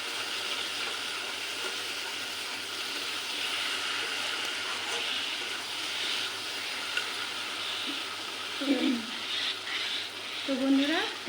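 Food sizzles steadily in a pan on a home kitchen stove, a constant close hiss that runs the whole time, with a few faint voices coming in near the end.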